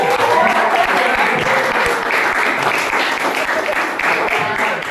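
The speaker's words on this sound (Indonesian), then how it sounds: "Tepuk tangan yang meriah." A school audience applauds loudly and steadily for three OSIS student council candidates, dense clapping filling the whole stretch with a voice faintly underneath.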